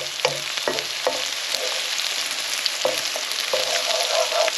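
Onions fry with ginger and garlic for a chicken tikka balti, giving a loud, continuous sizzle broken by repeated scraping stirs of a utensil in the pan.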